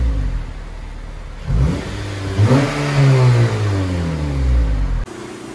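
A 2014 Honda Civic Si on its stock exhaust revs up from idle in a couple of rising pulls, the engine note climbing and holding before dropping back, loud and close with no talk.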